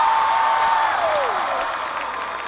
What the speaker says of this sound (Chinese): 谢谢大家的掌声